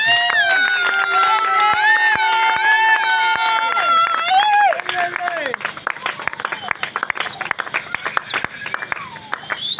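A Pentecostal church congregation in Congo cheers for God, first with high sustained voices and ululating calls, then breaking into a dense burst of rhythmic clapping and applause, loud and close, with voices mixed throughout.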